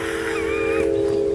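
Train horn near an old canal on a nature trail, a steady sustained tone sounding close and loud throughout with a brief wavering overtone, no speech.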